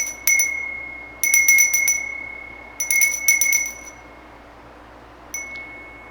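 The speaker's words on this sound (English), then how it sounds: "So we're going to ring the bell to call in the sacred time." A bright metallic ritual bell for a Wiccan Imbolc celebration rings in four bursts of rapid repeated strikes, each leaving a short clear ringing tone, close and distinct with no talking.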